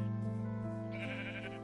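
A sheep in the Minecraft video game bleats in one sustained, wavering call over a steady background hum.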